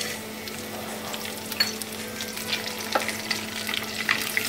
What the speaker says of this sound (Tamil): இதை ஒரு நிமிஷம் நல்லா ஃப்ரை பண்ணிக்கோங்க.